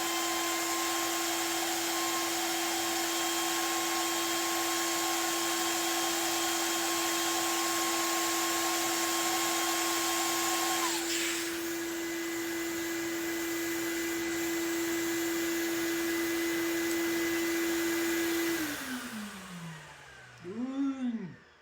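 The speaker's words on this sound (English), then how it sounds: "Vacuum connected to a dust separator connected to a 20-foot hose" A shop vacuum running through a dust separator and a 20-foot hose drones loudly and steadily for a long stretch, then spins down as the motor shuts off, its whine falling away.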